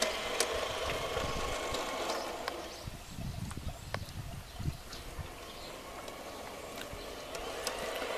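Playmobil diesel locomotive running on outdoor garden railway track: a continuous low rumble with irregular clicks and knocks as it rolls along, steady and fairly close, with no talking.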